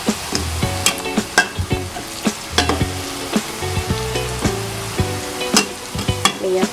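Battered crispy mushrooms being flipped in hot frying oil, a steady close sizzle broken by frequent sharp clinks and scrapes of a utensil against the pan in an irregular rhythm.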